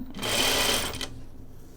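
A sewing machine runs in one steady burst of stitching about a second long while a pajama top is sewn, then stops and leaves quiet room tone.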